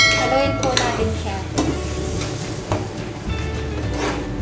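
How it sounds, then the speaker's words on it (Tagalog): Bopis with chili flakes and pepper stirred in a pan: steady sizzling with repeated scraping and clinking strokes of a utensil against the pan, close and continuous, no talking. "Dinagdagan ko po siya ng chili flakes at paminta. Dahil para sa akin parang kulang pa yung anghang ng ating bow piece. Haluin po natin siya."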